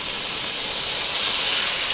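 Skirt steak sears in hot olive oil, a steady, close hiss of sizzling that holds evenly throughout without any talk.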